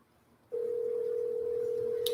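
A steady telephone dial tone hums continuously at moderate level during a round of live cold calls to multi-family property owners, starting abruptly after a quiet moment and holding without a break, with a brief beep near the end.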